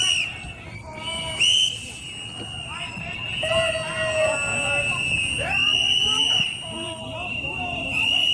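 Many whistles shrill together in a dense, sustained chorus with overlapping tones over crowd babble at a street confrontation between ICE agents and protesters, the blasts rising and falling in waves throughout.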